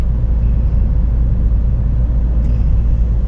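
A car driving along a road in the Deep South, heard as a steady, loud, low rumble of engine and tyres from inside, unbroken and without talk.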